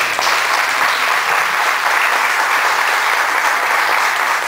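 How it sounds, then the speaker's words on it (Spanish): Steady, dense applause from a large audience at an event in Jocotepec, loud and continuous throughout with no break and no voices standing out. "yo les pido que la recibamos con un fuerte aplauso"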